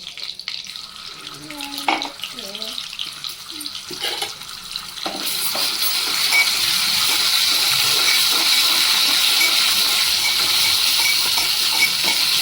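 Prawn fry cooking in a pan with cumin and ginger paste: a fairly quiet stretch with faint clatter, then a loud, steady, hissing sizzle that takes over and holds for the rest.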